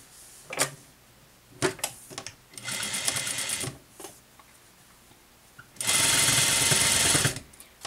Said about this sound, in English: and now we're going to sew this